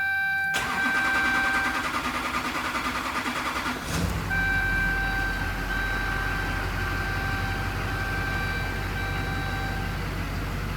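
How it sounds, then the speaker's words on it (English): A rebuilt Duramax diesel engine cranks and fires on its first startup, then settles into a loud, steady idle with a continuous low rumble and a faint whining tone. "this is gonna be the first startup with coolant"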